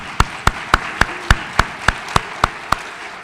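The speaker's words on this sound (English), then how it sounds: "let's have a little applause for Miss Jordan and the rest of the staff" About ten evenly spaced hand claps at a graduation ceremony, sharp and fairly close, in a steady rhythm roughly three to four per second, with no talking.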